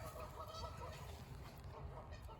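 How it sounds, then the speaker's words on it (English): Faint geese honk repeatedly in the distance over a quiet outdoor background. "Oh, you can hear the geese."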